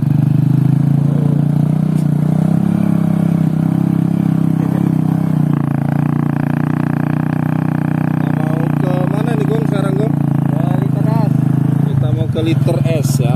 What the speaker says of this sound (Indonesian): Nah, kita pakai motor gunung